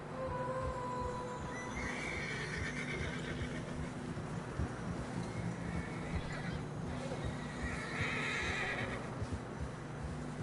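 Horses whinny and neigh repeatedly while struggling through fresh snow in Red Dead Redemption 2, over a constant, dense rumbling background, with a brighter burst of sound near the end.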